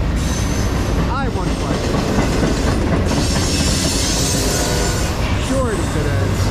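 CSX freight train I-158 passing close by with locomotive 319 in the lead, a continuous loud rumble of railcars with rhythmic wheel clatter and brief metallic squeals, a voice speaking over it.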